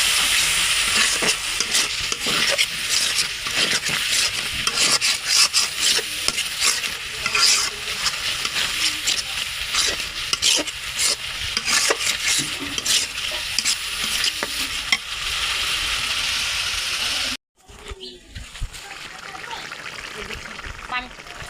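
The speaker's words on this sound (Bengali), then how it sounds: "একটু নাড়া দিব।" A quail curry is stirred in a sizzling frying pan, a close, loud frying hiss with repeated scraping strokes. A voice speaks over it, and near the end it cuts to a quieter bubbling simmer.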